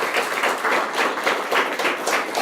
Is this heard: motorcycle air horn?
no